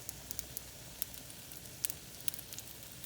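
Banana nut pancakes frying in oil in a pan, a steady soft sizzle with scattered small pops and crackles, close and fairly quiet, with no talking.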